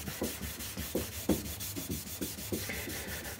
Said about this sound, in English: So the Garaflex block I tend to use if it's something a little bit coarser normally, a bit more rust marks.